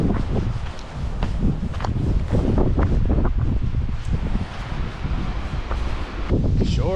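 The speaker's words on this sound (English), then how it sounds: "Sure is windy today." Strong wind buffets the microphone outdoors while camping on the Burin Peninsula, a steady loud roar with gusty rumbles, rustling and occasional footsteps or handling bumps throughout.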